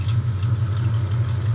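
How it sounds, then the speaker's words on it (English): A 1972 Plymouth Road Runner with a 440 engine idles with an exhaust leak, giving a steady low rumble with a faint ticking texture, close and continuous with no talk. "I have an exhaust leak."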